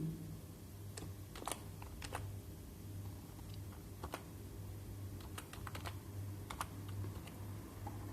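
Steady computer keyboard typing, a run of quick irregular key clicks close by over a low constant hum, with no voices.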